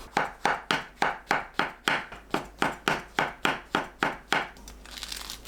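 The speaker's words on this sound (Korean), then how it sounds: "대 끝에 딱딱한 부분을 잘라내고 작게 썰어주세요." A knife chops the trimmed stems of shiitake mushrooms on a cutting board in a steady series of about sixteen crisp, evenly spaced close knocks, then stops with a brief rustle.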